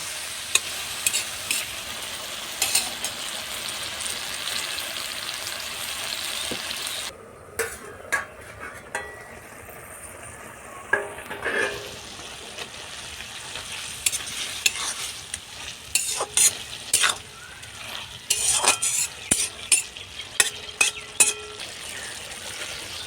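Bottle gourd leaf greens cook in their own released water in a pot, with a steady low simmering hiss and repeated scraping and clinking of a spoon against the pan close by.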